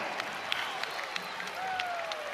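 Arena crowd at the Wells Fargo Center roaring steadily after a dunk in an NCAA college basketball game between Nicholls and Villanova, a dense sustained wash of cheering and clapping with scattered louder claps and whistles throughout.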